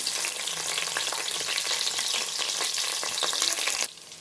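A loud, continuous sizzle of two chopped onions frying in a hot pan for green peas coconut pulao, with occasional stirring, cutting off abruptly near the end.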